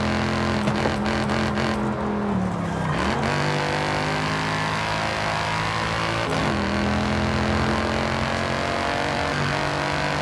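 A 2012 Mercedes-Benz C63 AMG Coupe Black Series with a naturally aspirated 6.2-liter V8 roars in Forza Horizon 5, engine pitch rising and dropping through shifts in a loud, continuous drive with no voices.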